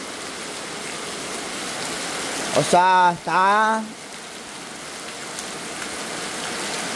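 Heavy rain pours steadily and fairly loud through the whole stretch, a constant hiss of water on surfaces around a house during a flooding storm, briefly interrupted by someone speaking over it.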